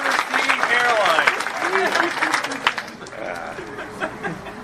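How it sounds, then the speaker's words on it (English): A live convention crowd at a Dragon Con podcast taping claps for Nicolas Cage cosplayers, with chuckles and chatter mixed in; clapping is loudest at first and fades into talk and laughter. "Everybody give that round of applause."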